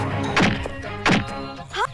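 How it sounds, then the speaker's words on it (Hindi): A car tyre kicked hard, giving two dull, heavy thumps about a second apart and a lighter third knock, close and fairly loud with no talk over them. "अब टायर को जोर से लात मारेगा।"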